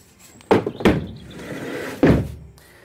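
The sliding side door of a 2006-2016 Volkswagen Crafter van is worked in a few loud thuds: two quick knocks close together, then a heavier slam, each with a short metallic ring.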